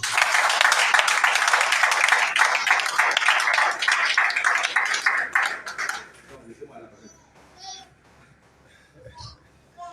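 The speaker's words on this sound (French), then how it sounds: "Acclame pour toi-même." A church congregation applauding together, a sustained wash of clapping for about six seconds that then fades out, leaving sparse small sounds and faint voices.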